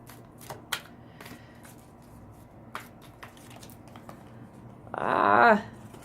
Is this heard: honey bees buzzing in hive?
no